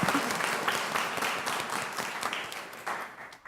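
A school board meeting audience claps together for a student council president, a steady dense wash of applause heard fairly close for a few seconds.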